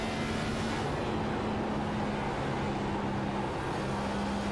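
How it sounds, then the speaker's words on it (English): A next-gen stock car roars steadily through a qualifying lap at Chicagoland, engine drone and road roar holding loud and constant with a sustained tonal whine, no voices over it. "You can just hear just how much this track already eats tires with the next-gen car."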